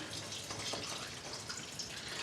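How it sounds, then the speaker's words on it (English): Water poured into a container while making homemade root beer with yeast, a steady close splashing trickle that runs unbroken for a couple of seconds with no talk over it. "I'm just going to pour some water in here"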